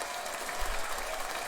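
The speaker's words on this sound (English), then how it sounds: "do I hear applause or something?" Applause from an unseen crowd, a steady wash of clapping heard faintly in the distance, fairly even throughout with no voices over it.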